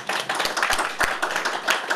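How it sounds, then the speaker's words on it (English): Conference audience clapping for speakers after a talk, a dense, steady run of claps close by, lasting the whole moment without voices. "Give a round of applause to the speakers."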